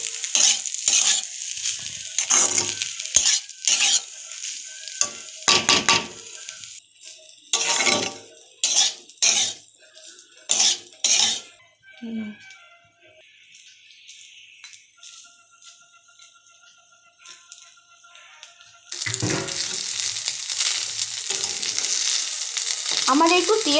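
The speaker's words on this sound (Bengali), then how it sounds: "খুব ভালোভাবে আমি মিশিয়ে নিচ্ছি।" Rice being stirred and fried with other ingredients in a pan, with loud intermittent scraping and clinking of a spatula against the metal over a soft sizzle, then a sustained louder frying hiss toward the end.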